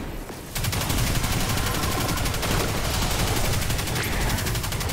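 Steady, rapid automatic fire in Destiny 2, a fast rattling stream of shots that starts abruptly and keeps going loud and unbroken for several seconds.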